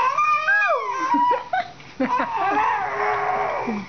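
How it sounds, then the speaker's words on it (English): A baby makes a funny growling, moaning vocal sound at close range, a drawn-out wavering voice rising and falling over a few seconds, loud and alone without other talk. "Funny growl."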